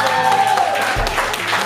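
Wedding guests applauding during an illusion act at a reception, a dense burst of clapping from a crowd, fairly loud and close, with a voice mixed in at the start.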